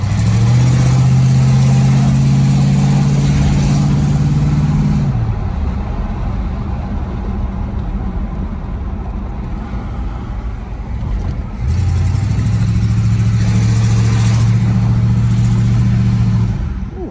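A 1978 Chevrolet El Camino engine idling with a loud, close rumble, rising in two sustained revs at the start and end with a steadier idle between them.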